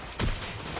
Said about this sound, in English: I heard gunfire.